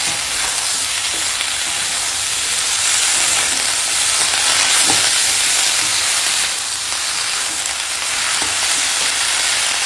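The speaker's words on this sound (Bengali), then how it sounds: "এখন এই কুমড়ো শাকটাও দিয়ে দেবো, দিয়ে এখন কষাবো" Pumpkin greens with turmeric and dried chilli powder stir-fry in a pan, giving a dense, even sizzle and hiss throughout with faint stirring scrapes, close and steady, no voices.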